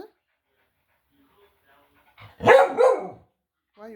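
A dog gives a short burst of two quick barks close by, after a long near-silent pause, with a brief vocal sound just before.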